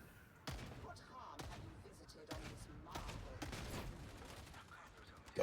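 Pistol fire in Warhammer 40k: Darktide, a rapid string of sharp shots emptying a magazine amid combat noise, loud and close with game sounds around it.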